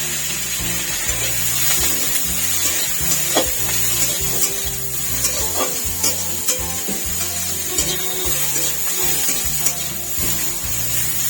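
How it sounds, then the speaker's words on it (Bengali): Chopped onion with panch phoron five-spice sizzles loudly in hot oil for a bitter gourd curry, a constant close frying hiss with occasional clinks and scrapes of stirring, and nobody talking. "এবার আমি অল্প 5 ফোড়ন দিয়ে ওই তেলেতেই দিয়ে দিচ্ছি। এই পেঁয়াজ কুচিটা দিয়ে দিচ্ছি।"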